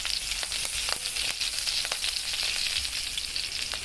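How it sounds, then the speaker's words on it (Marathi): Mustard seeds, asafoetida and curry leaves sizzle in hot oil with a dense, continuous crackle and scattered sharp pops, steady and close throughout. "मोहरी तळायला लागलेली आहे. त्याच्यामध्ये हिंग,"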